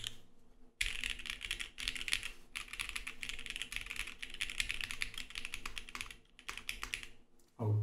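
Typing on a Monokei Hiro mechanical keyboard with Kohaku switches, producing fast, crisp, high-pitched clacks in continuous bursts with short pauses, close and alone.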